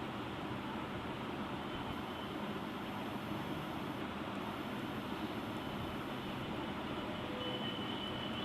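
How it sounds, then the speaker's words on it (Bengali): A train rolls past in the PUBG video game with a steady, dense rumble and rattle of wagons. It stays fairly quiet and constant throughout, with no voices over it. "ট্রেন যাইতেছে"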